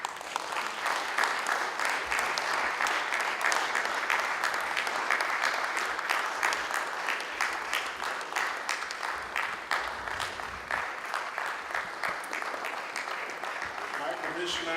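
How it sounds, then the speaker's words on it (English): An audience at a conference in Melbourne keeps applauding as a speaker walks to the podium, with a sustained, even wall of clapping that holds steady throughout and never drops away. "She's on her way to this podium while you continue to applaud her"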